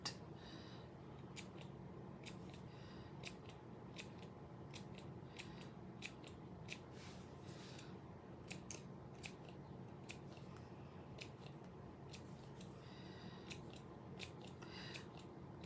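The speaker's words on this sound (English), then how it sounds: "And then I'm going to snip around it." Scissors snip around fabric for a primitive Halloween centerpiece, with faint, crisp cuts recurring at an uneven steady rhythm over a quiet room background.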